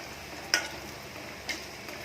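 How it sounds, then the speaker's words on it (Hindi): Poha pakoda deep-frying in hot oil makes a faint, steady hiss throughout, broken by two light clicks, with no voices. "और दोनों तरफ से गोल्डन ब्राउन होने तक इसे फ्राई कर लेंगे।"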